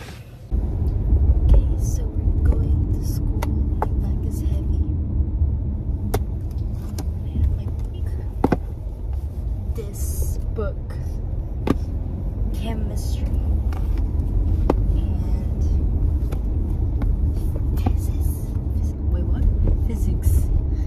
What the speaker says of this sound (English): All right, I'm in the car.